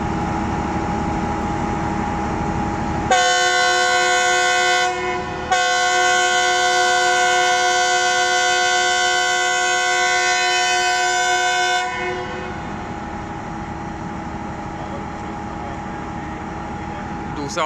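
Fareed Express train horn, heard from inside the train in rainy weather, blasts loud and close for about nine seconds with one brief break, over the steady rumble of the carriage.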